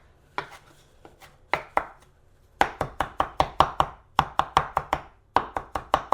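A knife mincing a portobello mushroom on a cutting board makes crisp, close taps, a few scattered strokes at first and then quick runs of rhythmic chopping with brief pauses between them.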